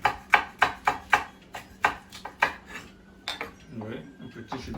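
A knife chops food into small pieces on a board, about ten crisp, evenly spaced strikes up close, followed by a few softer knocks and shuffling sounds.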